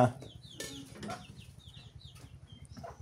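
Chickens cluck and chirp nearby in an outdoor rural setting, with short bird calls repeating over a low background hum.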